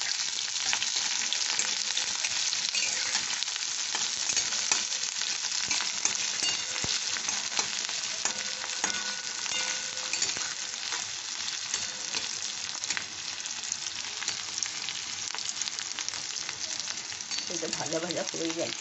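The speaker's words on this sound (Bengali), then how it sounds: "পেঁয়াজ দিয়ে দিলাম, এটা হালকা করে ভেজে নেব।" Onions frying lightly in a pan, giving a steady, even sizzle throughout with occasional stirring scrapes and no voices.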